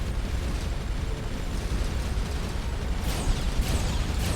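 Missile fire and explosions in the space combat game Starcom rumble as a dense, continuous roar, with a couple of sharper bursts near the end.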